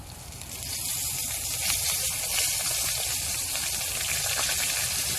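Water poured slowly into a hot pan on a stove inside a hot tent, giving a steady, loud sizzling hiss with crackle and pops that holds throughout without talk.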